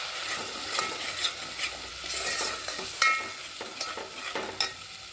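Mutton masala is stirred in a pan over a constant hissing sizzle, with light spatula scrapes every half second or so, close and fairly loud.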